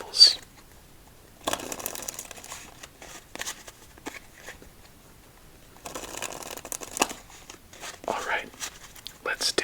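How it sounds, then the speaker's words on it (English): A deck of playing cards is shuffled twice during a quiet solitaire game, two close rippling riffle bursts separated by softer handling rustles and taps, with faint whispering around them. "Let's see how we do after two more shuffles."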